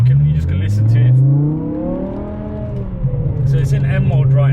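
A BMW E60 M5 with an Eisenmann race exhaust: a loud, close engine revving up and easing back, with a deep steady drone, and someone talking over the start and end.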